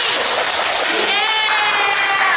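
Children at an online Sunday school service clap their hands together in a steady, dense burst that fills the whole moment, loud and close, with faint voices mixed in.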